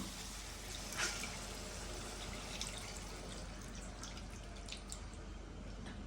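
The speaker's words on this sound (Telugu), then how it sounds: "అయితే కొన్ని వాటర్ అయితే పోసేసుకుందాం మనం" Water poured into a pan of fried fish curry with tomato, a steady close trickling and splashing that runs through the whole stretch with a few brighter drips.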